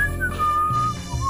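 Creepy whistling in a night-time horror story, a thin wavering melody that slides down in pitch and repeats faintly over a heavy, droning low-frequency bed.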